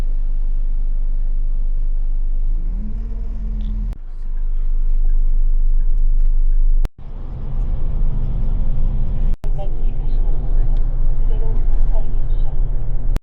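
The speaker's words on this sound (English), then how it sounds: "And our limousine bus has arrived for Haneda." A limousine bus bound for Haneda airport pulls up at a stop, its deep engine rumble and a brief rising whine running loud and close, broken by a few sharp clicks.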